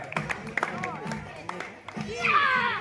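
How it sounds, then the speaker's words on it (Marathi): Sparse, sharp hand claps ring out among children's voices during a ball-tossing-into-a-bucket game at a Shri Datta temple friends' club gathering, with lively chatter continuing throughout. "टाळ्या वाजवा टाळ्या"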